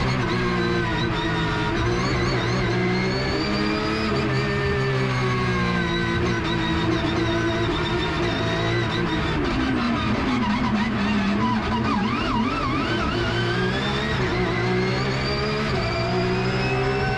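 Porsche GT3 Cup race cars scream past on the street circuit at Long Beach, a loud, continuous blend of high-revving flat-six engines with shifting pitch as cars accelerate and brake, with faint tire squeal and no talking.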